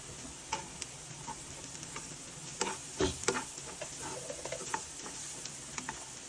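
Fish curry stirred in a pan, with scattered soft scraping and clicking stirs and a light sizzle underneath, a few louder clattering strokes in the middle.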